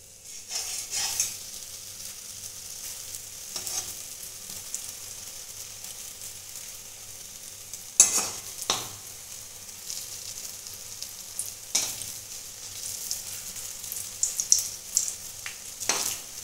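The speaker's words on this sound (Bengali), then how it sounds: "বাকিগুলোও আমি একইভাবে ভেজে নেব।" Urad dal rosbora fritters deep-frying in oil, a faint steady sizzle with occasional louder crackles and a few spoon scrapes spread across the stretch.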